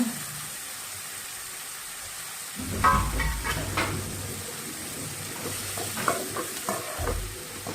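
Ginger, garlic and curry leaves sauté in a hot pan for tomato chutney, a soft hiss that jumps into louder sizzling and stirring scrapes partway through, with a few spoon clinks near the end.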